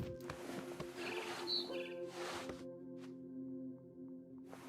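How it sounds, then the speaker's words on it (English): A barn swallow chirps and tweets in a video game over a soft, steady tonal background, with a few breathy swishes and faint clicks between calls. "Then I heard chirping outside my window. It was a barn swallow going back to her nest."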